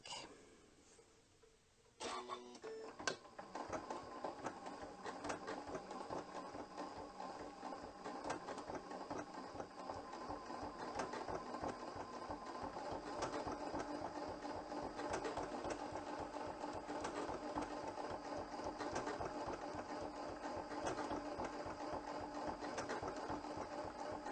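A Janome sewing machine stitches a quilt with a steady, rapid mechanical run close by after a brief quiet start, continuing without pause and with no talk.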